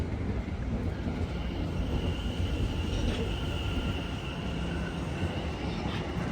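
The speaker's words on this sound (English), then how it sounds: "The 701 behind this one is just now departing" Class 701 train departing Clapham Junction, a steady broad rumble of wheels and motors with faint high tonal whine, continuous and moderately loud.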